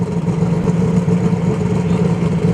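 A drag racing car at US 131 Motorsports Park gives off a low, steady engine rumble throughout, moderately loud and fairly close with no sharp revving, and no one speaking.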